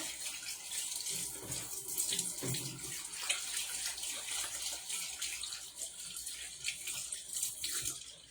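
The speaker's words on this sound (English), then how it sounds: "Just wash your hands because of the sausage meat." Hands are washed under a running kitchen tap during cooking with sausage meat and peppers, with a steady broadband water rush that lasts throughout and splashes now and then, close and alone with no talk.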